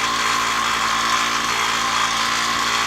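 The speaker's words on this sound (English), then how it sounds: "A quick cleanup on my ridiculously loud wire wheel." A ridiculously loud bench wire wheel grinds steadily against rusty bolts and parts from a Honda CL350 motorcycle restoration, a harsh, continuous whirring scrape with no break, close and dominant.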